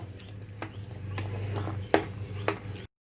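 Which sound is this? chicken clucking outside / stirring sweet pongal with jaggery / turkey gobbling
stirring sweet pongal with jaggery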